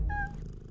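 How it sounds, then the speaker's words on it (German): Cat purring in the point-and-click game Deponia, a brief soft rumble with a short faint tonal chirp at the start. "Ich nehme eine Katze."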